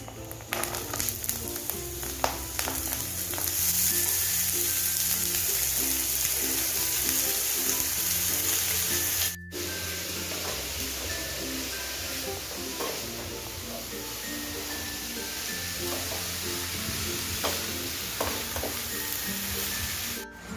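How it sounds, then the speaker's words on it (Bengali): Ash gourd pieces added to fried grated coconut in a pan, a low steady sizzle with stirring rubs and clinks over a faint background tone, continuing after a brief cut. "নারকেল ভাজা হয়ে গেছে, এর মধ্যে আমি দিয়ে দিচ্ছি চাল কুমড়ো।"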